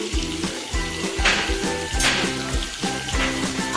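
Whole spices, a bay leaf and a dried red chilli sizzle in hot oil for pumpkin chhokka, a steady close crackling fry with faint clinks, and no talking.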